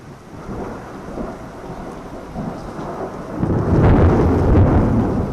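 Thunder from a lightning strike rumbles over steady rain, swelling louder partway through and staying near and heavy, with no talk.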